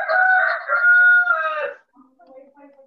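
A rooster crows loudly and nearby in one long, drawn-out call, followed by a few soft clucks, during stormy weather.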